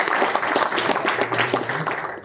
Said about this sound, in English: next I want you to greet with a warm applause the CEO of Daimler Truck, Karin Rådström.